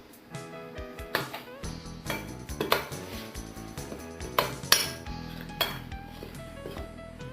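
A utensil clinks and scrapes against a bowl as salt is mixed into flour for pizza dough, irregular close metallic taps and knocks with ringing dish tones, alone and fairly quiet.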